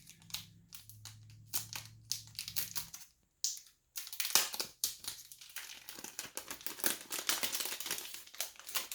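A small Everdell card pack's plastic wrapper is crinkled and torn open up close, producing quiet, irregular bursts of crackling and rustling, with a short pause before the crumpling resumes more busily.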